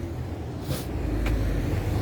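An Audi car passing along a street in Geneva, a steady low rumble of road traffic swelling slightly as it nears, with a brief brighter hiss of tires midway.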